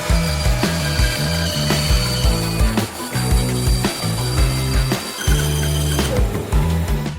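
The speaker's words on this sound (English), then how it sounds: "Now we're at the bandsaw." A bandsaw cuts a piece of wood close by, with a steady mechanical whir broken by repeated rhythmic bursts of cutting noise as the wood is fed through, loud throughout with no talking.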